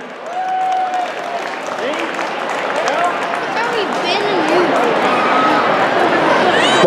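Applause from an audience at a Tet New Year performance of Binh Dinh martial arts, with steady loud clapping that swells slightly over several seconds, mixed with crowd chatter and someone speaking through a microphone.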